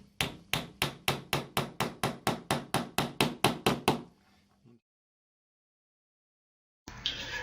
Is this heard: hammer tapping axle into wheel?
yes